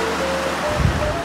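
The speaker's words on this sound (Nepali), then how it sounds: "उता पछाडिपट्टि पुरै नदी भेल छ पछाडिपट्टि" Steady rushing water of a flooded river heard from a narrow spot near the Devghat Sita Cave, a broad continuous roar of surging flow with a brief thump near the middle, no voices.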